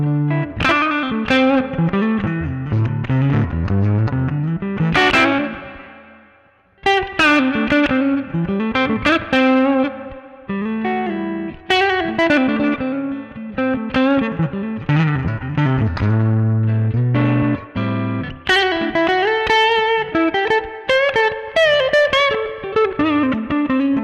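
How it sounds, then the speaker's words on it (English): Clean electric guitar through a Hotone Ampero Stomp II modelling a Deluxe Reverb amp with its integrated cabinet, a melodic line of ringing notes and chords with a short pause near the start, played alone and close. "it's the clean part, and it's based on a deluxe reverb amp with"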